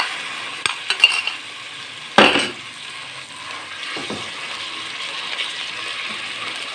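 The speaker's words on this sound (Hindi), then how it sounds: "ये कीमा मैं इसमें अभी डाल रहा हूँ।" Minced meat keema fries in hot ghee with a steady, soft sizzle, broken by a sharp clank and scrape of a spoon stirring the pan and a few lighter knocks, with no one speaking.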